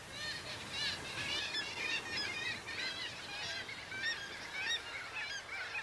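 A seabird colony that includes several kinds of auks calls from sheer nesting cliffs and boulder slopes, a dense, continuous chorus of overlapping honking and croaking cries at moderate distance with no voices.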